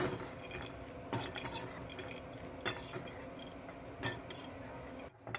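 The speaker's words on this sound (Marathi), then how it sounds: "आता आपण हे शेंगदाणे पण एका वाटीमध्ये काढून घेऊया।" Roasted peanuts scraped and tipped from a pan into a bowl, giving a steady clatter of nuts against metal, with a few sharper knocks of the pan or spoon near the start, middle and end, close and fairly loud.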